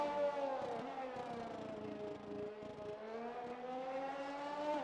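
A Formula 1 car engine in the F1 2021 racing game drones with a steady, distant tone that dips unevenly, as if stuttering and losing power. It is fairly quiet and no voices are heard.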